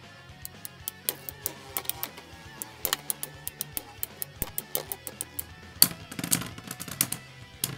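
Beyblade tops spin and clash in a stadium, a nearby Storm Aquario among them, making rapid, irregular metallic clicks and sharp ticks that keep rattling on throughout, with a denser burst of collisions near the end.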